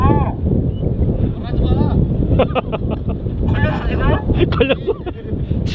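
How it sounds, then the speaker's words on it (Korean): Wind blowing over a fishing boat at sea off Seonyudo, a steady broadband rush and buffeting against the microphone throughout, with people talking over it. "여기 바람 부니까 배가 밀려가니까"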